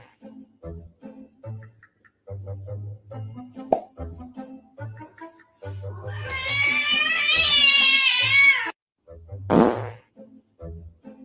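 Cats meow in a video playing back on a screen: several short plopping sounds, then a long, loud, wavering meow and a second, briefer cry, mixed with other intermittent noises.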